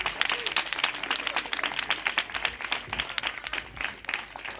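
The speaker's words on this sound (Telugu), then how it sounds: "అందరూ దయచేసి చప్పట్లు కొడుతూ వారిని అభినందిద్దాం" A church congregation applauds at an annual Pentecostal worship meeting, a steady wash of many hands clapping in a large room, moderately distant and sustained throughout.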